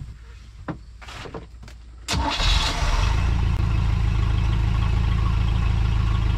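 A Mercruiser 120hp engine in a 1973 Larson boat, running without its valve cover, cranks with a few short clicks and bursts. It then catches at about two seconds and settles into a loud, steady, close idle.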